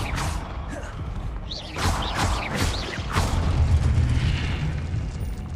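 Confringo fire spell blasts in Hogwarts Legacy gameplay, several whooshing bursts and booms in quick succession over a rumbling low-end base, loud and close.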